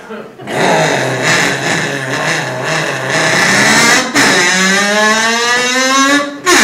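Motorcycle engine revving loudly and close, with repeated rising whines and a final sweeping pitch climb over a crowd-filled comedy stage setting.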